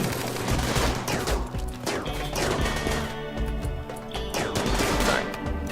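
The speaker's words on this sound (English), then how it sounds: "You're getting shot by machine pistols as well." Machine pistols and a pump shotgun fire in a RimWorld firefight, a dense, continuous barrage of overlapping shots and cracks with no pauses.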